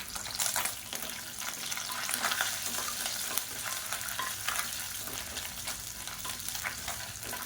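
Chopped garlic and dried red chillies sizzle and crackle steadily in hot oil in a pan, close up, with occasional scraping stirs over the continuous fry.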